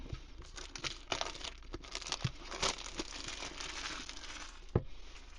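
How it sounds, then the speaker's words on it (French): Packaging for a JetKVM, a KVM-over-IP device, crinkles and rustles while it is unboxed. The sound is a quiet, continuous crumpling with a few sharper crackles, close by and with no voices. "On va déballer ça."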